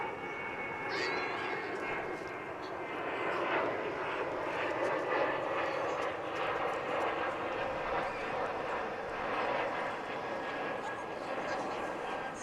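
An American Airlines Boeing 737-800 passenger jet taking off at DFW International Airport, a broad steady roar that swells and holds at a moderate distance, with a voice talking over it.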